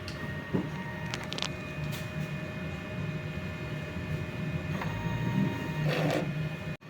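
A DTF printer runs a head clean cycle, giving a steady mechanical hum with a constant whine and brief clicks and whirs from the pump and carriage. The sound is close and moderate in level, with no talk.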